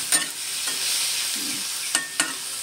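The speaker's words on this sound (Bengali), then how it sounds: "এই যেমন চিংড়ি মাছ ফ্রাই হচ্ছে" Prawns fry in a pan with a loud, continuous crackling sizzle up close, broken by a few quick utensil taps and stirs, with no talking.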